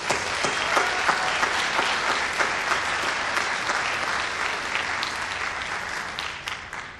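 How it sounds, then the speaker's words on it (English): An audience applauds three award recipients at an institute day event, with steady, dense clapping throughout that tapers slightly toward the end. "Another round of applause for these 3"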